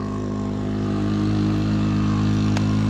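A motorcycle engine idles and drones steadily, close and loud, before pulling away on the Cebu Transcentral Highway, a steep mountain road of curves, with no one talking.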